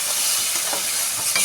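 Bombay duck (lote fish) coated in salt, pepper and lemon juice is stir-fried in a pan, giving a steady, loud broadband sizzle with soft stirring scrapes and no voices.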